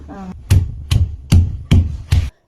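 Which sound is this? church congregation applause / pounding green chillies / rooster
pounding green chillies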